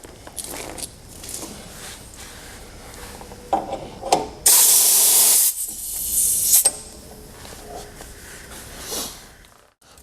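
Compressed air hisses into the FRL units of a Norfield 450 stop stitcher, a loud sustained burst of about two seconds amid quieter handling clicks and rattles.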